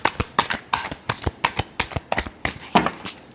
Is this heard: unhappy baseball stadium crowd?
no